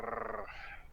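A person's voice imitates a small dragon growling like a dog, giving one short, close, throaty rattling growl that rises and then trails off, with no other talk.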